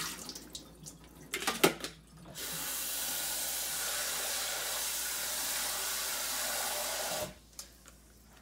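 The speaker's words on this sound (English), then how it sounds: "now I'm going to mix it up with my hands to get the starchy stuff off of the sushi rice" Sushi rice is rinsed under water and mixed by hand to wash off the starch. A few soft knocks come first, then a steady stream of running water hisses for about five seconds and stops.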